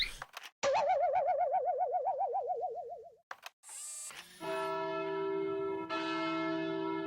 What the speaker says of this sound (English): Cartoon wobbling bells.